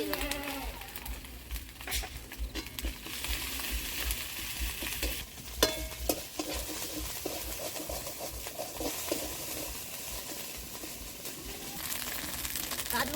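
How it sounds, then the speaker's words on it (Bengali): Sliced onions sizzle steadily in a pan as they turn light reddish, the soft crackle running throughout with a few stirring clinks and a pigeon cooing faintly nearby. "পেঁয়াজটা আমার হালকা লাল লাল হয়ে এসেছে, পেঁয়াজ ভাজছি"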